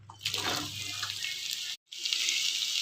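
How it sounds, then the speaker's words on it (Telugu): A kitchen tap runs steadily while bitter gourds are washed under it, a close, loud hiss of flowing water. It cuts out briefly for a moment, then resumes without any voices. "కాకరకాయలు శుభ్రంగా కడుక్కొని"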